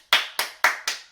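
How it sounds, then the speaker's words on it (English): A single person claps their hands five times in a steady rhythm during a children's drama and storytelling session, each clap sharp, close and loud with nothing else heard between them. "I think you should give yourself a big clap and a pat in the back like this."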